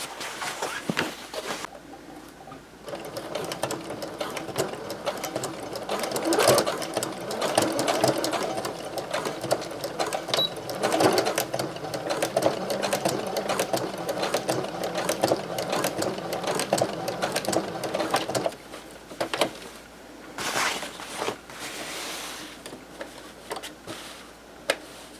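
A sewing machine stitches a basic tote bag, running in steady, continuous whirring bursts for most of the stretch with brief pauses near the end, close and fairly loud.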